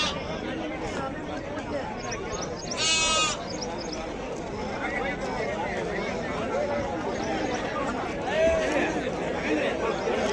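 Sheep bleat at intervals through a busy livestock market in Duggavati, with constant crowd chatter and voices talking all around them.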